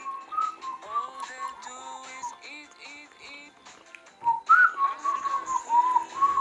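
A person whistles a wavering, melodic tune of short rising and falling notes, close and clear, getting louder and more insistent toward the end, during a mukbang eating challenge.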